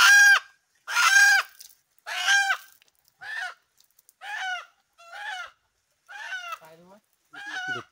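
A rooster at a village household in Chiplun clucks and calls in eight short, loud bursts spaced roughly a second apart while it is given water, with near-silence between calls.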